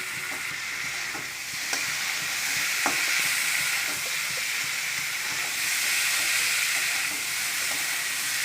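Soaked chana dal stir-fried in a pan with jackfruit, giving a continuous close hiss and sizzle with occasional light scraping taps of the spatula, steady throughout.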